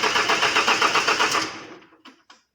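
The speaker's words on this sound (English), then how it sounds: "So I'm trying to crank the engine. The car is on neutral, but it does not start." A car engine cranks repeatedly without catching, a steady rapid starter rhythm for about a second and a half with the car in neutral, then winding down and stopping with a couple of brief clicks.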